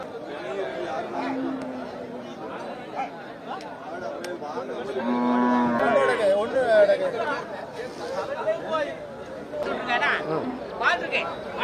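Dairy cattle moo at a farm where people are chatting. A drawn-out low call rises partway through beneath the ongoing conversation.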